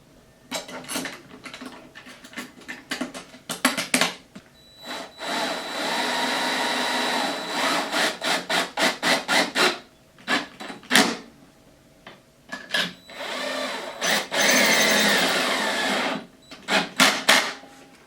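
Metal scraping and sliding with bursts of rattling clunks and knocks as a 1968 Fender Bassman amplifier chassis is slid back into its cabinet, close up, no talking.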